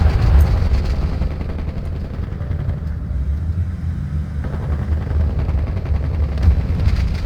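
Gunshots in the physics sandbox video game Wobbly Life, heard as scattered loud cracks over a steady, rumbling game backdrop, with no talking.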